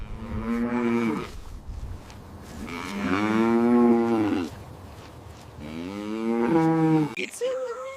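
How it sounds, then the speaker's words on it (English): A cow moos three times, long, drawn-out and fairly loud, with short pauses between the calls and no talk over them. "It's a cow."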